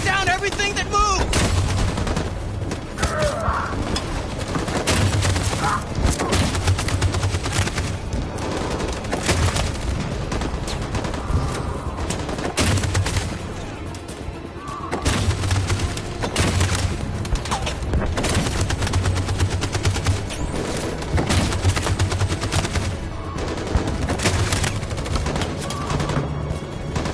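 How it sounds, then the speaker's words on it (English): Machine gun fire in the game Detroit: Become Human, loud sustained bursts hammering almost continuously with heavy battle noise and occasional shouted voices. "That machine gun is taking down everything that moves!"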